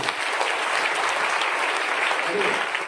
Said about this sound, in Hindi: दोस्तों, एसलीपीएस वेलनेस प्राइवेट लिमिटेड के लिए एक जोरदार ताली होनी चाहिए।